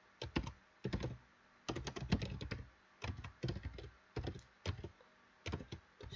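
Fingers typing on a computer keyboard, close and quiet, in quick clustered bursts of clicking keystrokes separated by short pauses, with no talking.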